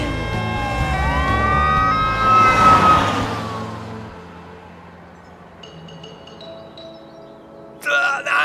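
An emergency vehicle siren in a cartoon wails loudly and rising before fading away, followed by quieter tonal effects and a brief burst near the end.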